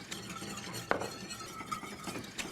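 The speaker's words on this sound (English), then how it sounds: "So then I'll just stir this in." A spoon stirs milk into a thickening béchamel sauce in a pan, giving soft scraping and swishing with one sharp clink against the pan, quiet and close, with no voices.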